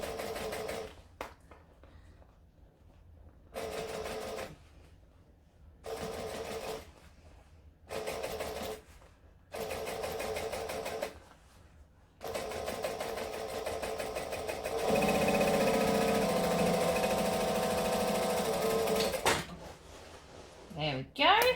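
Sewing machine topstitching a seam in short bursts separated by pauses, then one longer continuous run. The whirring stitching is near and moderately loud, with a brief rattle at the very end.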